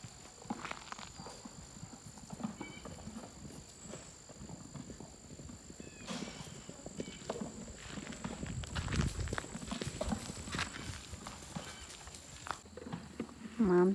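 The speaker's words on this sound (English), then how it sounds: "Mom feeding her horses and her mules." Horses and mules shift and step about while being fed at an animal sanctuary, with a continuous uneven clatter of hooves and shuffling close by and a soft neigh near the end.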